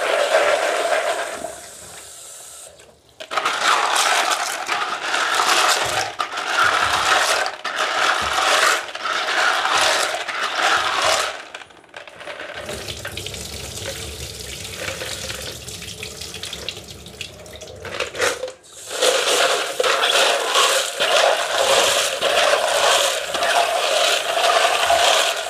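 Aquarium gravel being washed under running water, a steady rushing tap flow with gritty scraping and rattling as the stones are stirred, broken by short pauses and one quieter, duller stretch in the middle.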